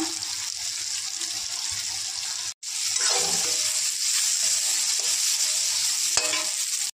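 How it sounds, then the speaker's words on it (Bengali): Vegetables with turmeric and ginger paste sizzle and hiss loudly in a hot pan, with a steady frying crackle broken briefly by a couple of short pauses, no voices. "এবার এটা কিন্তু ভাজা ভাজা করে নেব।"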